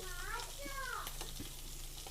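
Fish frying in a pan gives a steady, close sizzle throughout, with faint voice-like tones drifting over it early on.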